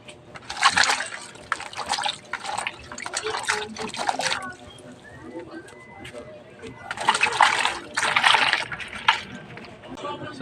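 Banana blossom being washed by hand in a basin of water, with two bursts of close splashing and sloshing separated by quieter dripping and handling.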